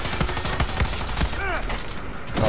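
Gunfire in the video game Far Cry 6, a rapid run of sharp shots over dense game sound, ending in a brief lull.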